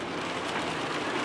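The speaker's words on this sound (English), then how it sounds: "when I tell you the rain is coming down, it is coming down" Heavy rain pours outside in a dense, even hiss that fills the brief moment at a steady loud level, with no talking.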